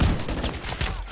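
Rapid gunfire in the Modern Warfare III campaign, dense overlapping shots in a brief loud burst, close and continuous.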